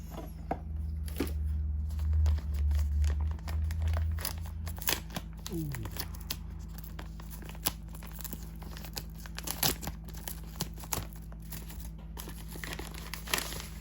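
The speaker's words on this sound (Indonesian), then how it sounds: "Coba unboxing dulu." Packaging for a DJI Osmo Action 5 Pro adventure combo with a DJI-branded bag crinkles and rustles up close as it is unwrapped, in scattered sharp crackles over a steady low hum, with a voice speaking.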